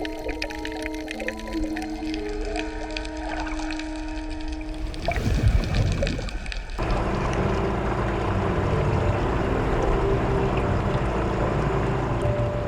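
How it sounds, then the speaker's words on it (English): The expedition boat Nemo 2 gets under way off Santa Cruz island in the Galapagos, a steady engine and water rush that turns louder and broader after a brief burst of noise midway, with no talking. "the Nemo 2 set sail again, circumnavigating the island of Santa Cruz to the Plazas"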